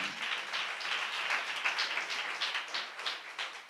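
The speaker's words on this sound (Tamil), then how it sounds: "நல்ல கைத்தட்டி கொஞ்சம் உற்சாகமாக" A church congregation clapping their hands together, a dense, steady, moderately loud patter of many hands with no voices over it.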